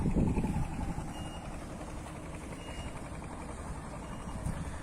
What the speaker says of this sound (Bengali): একটি ট্রলার আসছে সামনে দেখবেন জোয়ার দিয়ে চলে যাচ্ছে